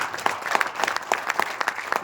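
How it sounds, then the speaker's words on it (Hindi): A crowd at a business meeting in Kolkata gives hearty applause, a dense and steady patter of many hands clapping close by, with no talk over it. "उनके लिए सर एक जोरदार ताली हम आपको"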